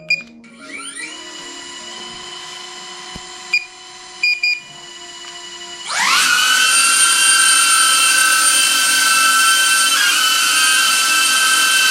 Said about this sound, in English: let's start the drone